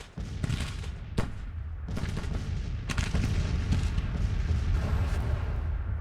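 Five artillery guns firing during a Grand Tactician Civil War battle on a mountain pass, heard as a dense, continuous rumble of booms and cracks with several sharper reports standing out.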